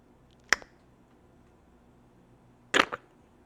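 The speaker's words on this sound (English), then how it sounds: "there's a sound of a twig snapping behind you." A twig snaps twice, close by, as a sharp crack followed a couple of seconds later by a longer, splintering snap, with a quiet background between them and no voices.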